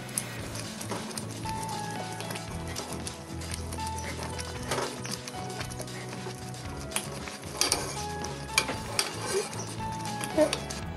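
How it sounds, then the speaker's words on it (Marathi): Jowar ambil porridge with jaggery is stirred in a pot on the stove, giving continuous close scraping and swishing with occasional metallic clinks of the spoon against the pot. "व्यवस्थित ढवळून परत एक वेळ झाकण ठेवून 2 ते 3 मिनिट शिजवायचं आहे"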